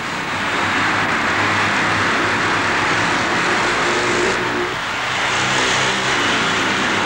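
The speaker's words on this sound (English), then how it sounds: "The 44-year-old Parker was obviously hurt, but he continued to race, and there he is" Vintage speedway motorcycles racing around a track, a steady, dense engine roar that swells and fades slightly as the bikes pass, continuous throughout with no voices.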